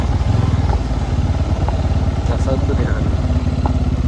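A motorcycle engine runs close and steady with a rapid, throbbing pulse on a trip toward Zinav Lake nature park in Reşadiye, while people talk over the constant drone.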